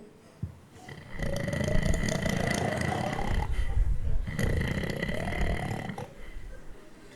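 At a wedding party game, a person's voice imitates snoring with two long, loud, rasping snorts, each about three seconds, separated by a short breath, after a brief sharp sound at the start.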